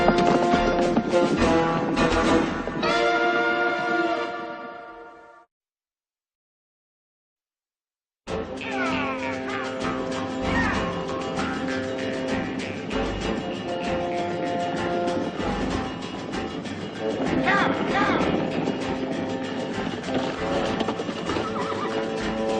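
Horses neighing and clip-clopping in a frontier Western drama, with music-like tonal layers throughout, broken by a brief silence midway before continuing loudly.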